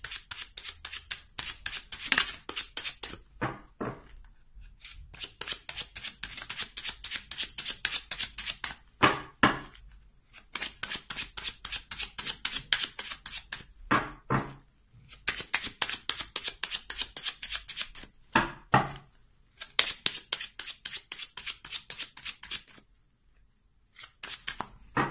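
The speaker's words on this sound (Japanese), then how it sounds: "シャッフルはしてるんですけれども、再度シャッフルをしていきましょう。" Tarot cards are shuffled by hand close up, in repeated quick runs of crisp flicking slaps broken by short pauses.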